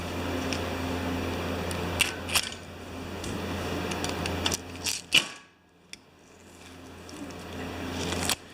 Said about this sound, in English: I am going to cut that tape off.